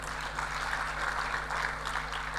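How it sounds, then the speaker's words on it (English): Faint, steady applause from a summit audience welcoming a guest to his seat, a soft wash of clapping over a low electrical hum throughout. "Let's give him a round of applause up until he takes his seat."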